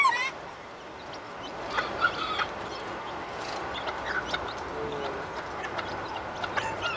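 A bantam hen with her chicks makes soft clucks and brief calls, with thin chick peeps scattered over low background noise.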